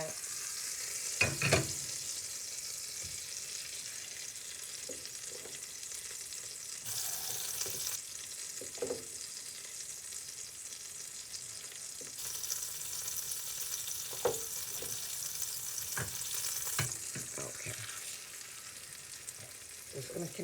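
Potato patties fry in butter in a pan with a steady, soft sizzle, and occasional clinks and scrapes of a utensil are heard close by.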